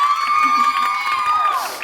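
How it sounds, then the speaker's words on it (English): A student audience at a school theater show cheers loudly, with a long piercing whistle riding over the crowd's whoops for about two seconds. "Oh, that's right, cheer for yourselves"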